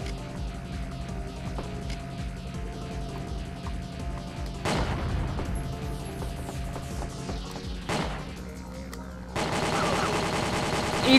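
Machine-gun fire from the video game Winback rattles in a steady, dense stream, swelling into louder, harsher bursts a few times along the way, with no voices.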